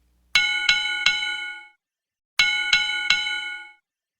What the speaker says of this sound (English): a bell rang.